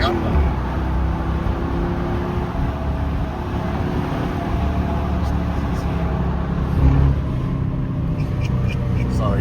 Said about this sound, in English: So y'all get a little bit of wind noise, but I was trying to get the exhaust sound.